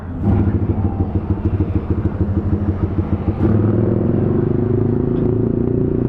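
A freshly tuned-up motorcycle with a recently cleaned carburetor runs loud and close, its engine rumbling in a steady, even throb that rises in pitch partway through as it picks up speed.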